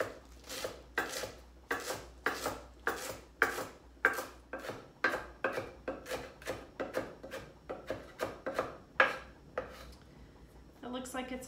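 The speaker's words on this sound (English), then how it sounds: "So you can just fold it in half and then start chopping" A knife chops fresh parsley on a cutting board for tabouli salad, giving a steady run of about twenty crisp, close thuds in an even rhythm, with a brief scraping sound at the end.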